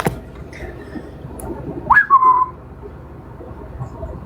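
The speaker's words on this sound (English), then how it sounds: "Sorry, I do whistling because I get weird." A person gives a single short whistle, rising then falling, heard alone over a quiet background with no talking.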